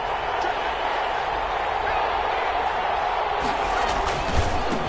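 A stadium crowd in an American football video game roars as a steady, loud wash of noise, with a commentator speaking over it.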